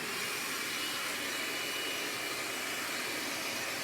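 A Harbor Freight Bauer cordless hand vacuum runs steadily and fairly loud, with a constant airy whine and broadband rush that holds unchanged from start to finish, with no talking.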